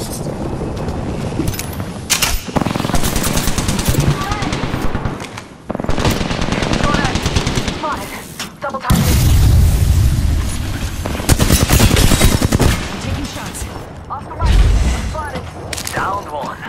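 Video game gunfire with machine-gun bursts and single shots, loud and close, interrupted by short pauses and thuds, while voices shout over the shooting.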